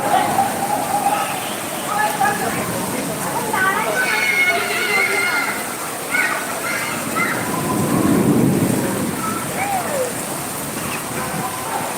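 Steady heavy rain pours down at night in Dhaka with a low rumble of thunder, while people talk over the downpour.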